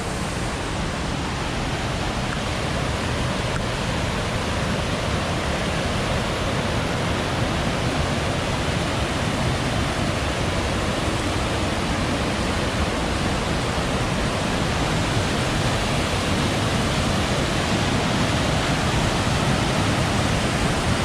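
Siouxon Creek rushes along a forested trail, a broad, steady roar of flowing water that holds at an even, loud level for the whole stretch, with no voices.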